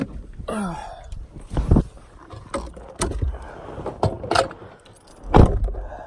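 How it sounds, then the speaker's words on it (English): Keys jangle and clatter in bursts inside a car as it is about to be started, mixed with rustling, bumps and handling noises close to the microphone. "we're in the car now, and I'm just gonna turn it on"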